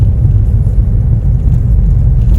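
Many cars drive past at night on a road in Japan near a fishing spot, forming a steady, loud low rumble of traffic that continues without break and with no voices.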